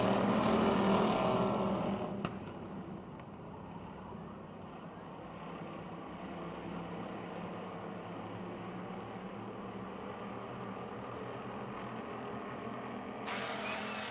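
Race cars roar at the green flag of a 15-lap Chargers feature at Motordrome Speedway, a loud broad engine blast that settles into a steady droning rumble, then swells again near the end.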